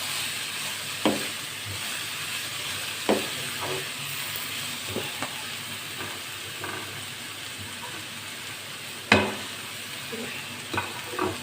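Vegetables for a desi-style pasta sauté in a pan with a soft, continuous sizzle, broken by occasional scraping stirs and clinks of a spoon against the pan.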